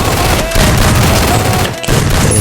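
Rapid, loud gunfire and booms from a video game firefight crowd the foreground, shots overlapping densely with short gaps, while a voice talks underneath.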